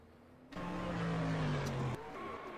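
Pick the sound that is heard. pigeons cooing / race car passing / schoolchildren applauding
race car passing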